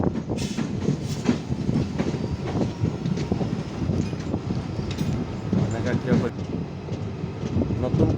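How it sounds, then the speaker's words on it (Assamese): A train rolls along newly laid rail track near Dibrugarh, giving a steady, loud rumble with rhythmic clacking of wheels over the rails throughout, and a voice talking faintly over it. "নতুনকৈ আমি যোনটো ট্ৰেকত গৈ আছোঁ, ৰেল ট্ৰেকত, এইটো ট্ৰেকটো নতুনকৈ বহাইছে মানে"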